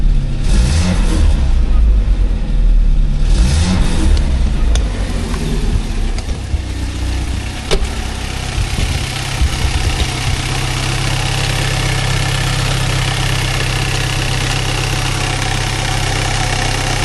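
A Saab car engine idles evenly after a vacuum advance rebuild, a loud, steady low rumble that settles after some early revving and runs on without talk.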